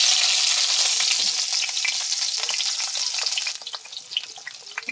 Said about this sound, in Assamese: এই তেলতে পিঁয়াজখিনি ভাজি দিম।